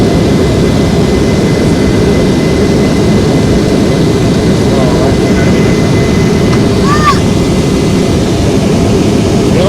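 A steady, loud, unbroken roar fills the cabin of an American Airlines jet airliner a few minutes into its climb above the clouds on the Charlotte to XNA flight, with no break or change.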